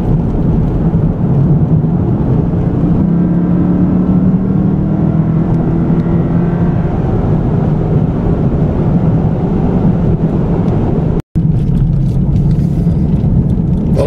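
A 2013 Lexus IS F accelerates hard along twisty roads, its engine a loud, steady in-cabin roar with a rising pitch under heavy wind rumble, broken by one brief dropout near the end.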